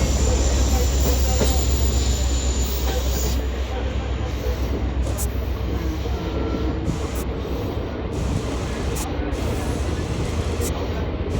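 A Malda Court–Siliguri DEMU passenger train rolls into Bhaluka Road with a loud, continuous rumble of wheels and a rail hiss, steady throughout and close by.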